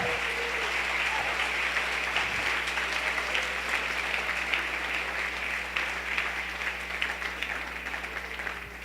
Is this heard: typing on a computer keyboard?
no